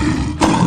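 A lion roars in a 3D animal slide game, a loud, dense, continuous growl filling the short moment without pause.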